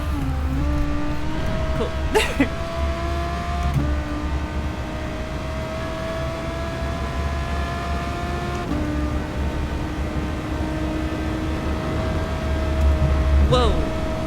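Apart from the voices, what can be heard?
car drifting through a corner in Gran Turismo Sport video game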